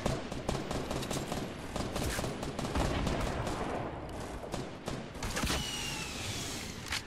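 Gunfire and explosive blasts from a grenade launcher and an RPG in Fortnite's 50 vs 50 mode, a dense, loud barrage of overlapping shots and bursts that runs steadily through the whole stretch with no talk.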